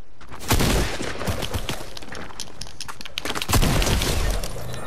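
Bursts of gunfire in Fortnite battle royale, dense rapid shots with breaking and shattering hits, loudest near the start and again toward the end.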